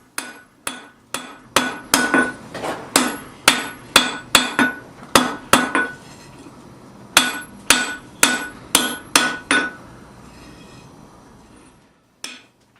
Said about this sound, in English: you can start hammering it with the flat of your hammer